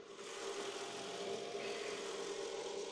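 A 2001 Mercedes 500 SL's V8 engine idles with a steady, smooth hum and an even low drone, heard close up from the engine bay, moderately quiet and unbroken.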